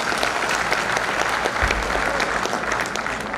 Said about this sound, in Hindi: एक बार आप भी ताली बजा के बच्चों को प्रोत्साहन के रूप में